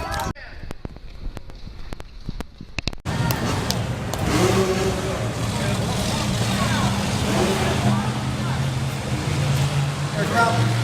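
The Samson monster truck driving at the Carlisle Truck Nationals, a heavy engine roar that kicks in abruptly after a few seconds of sharp clatter and crowd noise, then keeps rumbling loudly with people talking over it.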